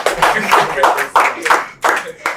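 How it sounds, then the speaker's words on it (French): Clapping from a talk-show audience, with bursts of handclaps in uneven waves rising and falling, fairly close and loud, voices mixed in throughout. "On peut applaudir très fort pour lui."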